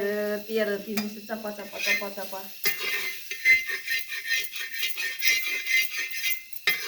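Tandulachi bhaji greens stir-fried on a tava: a short tonal, voice-like sound at first, then a continuous close sizzle with rhythmic scraping and rattling of the spatula against the pan.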